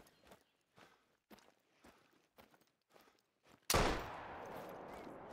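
A hunting rifle fires once, loud and sharp with a lingering echo, in the hunting game Call of the Wild, after a run of soft, regular footsteps.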